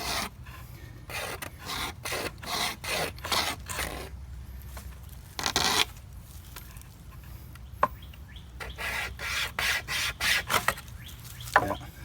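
A small keychain saw cuts through wood in rhythmic back-and-forth rasping strokes, close and moderately loud, with brief pauses between bursts of sawing and no speech.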